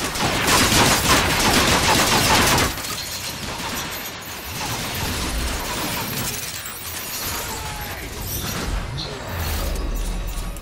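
Bursts of dense, rapid gunfire and crashing impacts from the video game Transformers: Fall of Cybertron, loudest in the first couple of seconds, then continuing as quieter scattered shots and clanks.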